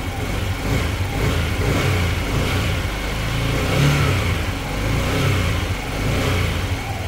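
A car engine, held at about 3,000 to 4,000 RPM during a coolant change, drones loud and steady close by, with its pitch swelling and easing slightly throughout.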